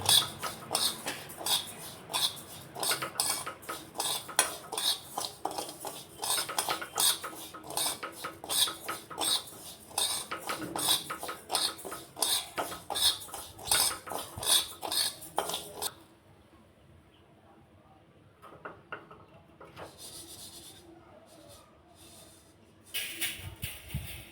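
Gobindobhog rice dry-roasting in a pan while being stirred, giving a dense, rapid scraping and rattling clatter for about sixteen seconds, then a quieter stretch with a few scattered clinks near the end.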